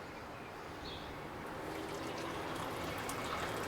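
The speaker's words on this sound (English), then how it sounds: "So I'm going to pour me up a cup here." Steady coffee pouring into a cup with a continuous soft splashing trickle, close by and unbroken for several seconds, no talking.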